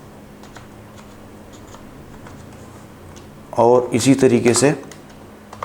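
Python code typed on a computer keyboard comes as a short, close burst of quick keystrokes right after someone speaks, with quiet room noise around it.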